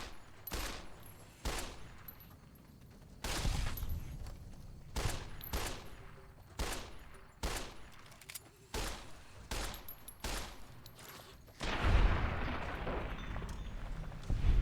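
Gunshots ring out in Fallout New Vegas while a lizard is targeted in the desert: a string of sharp, loud single reports spaced irregularly about a second apart, with a denser burst of louder fire near the end.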